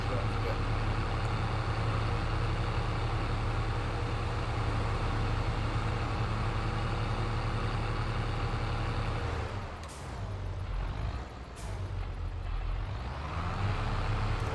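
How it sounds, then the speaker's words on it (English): A tractor engine in Farming Simulator 22 drones steadily at a low, even idle, loud and continuous throughout with a brief dip partway before resuming. "I would like to replace this tractor."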